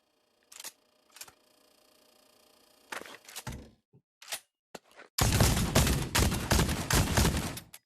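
Gunfire from shotguns in the VR game Pavlov VR at a gun range, several sharp isolated blasts followed by a dense run of loud, rapid shots, close and forceful.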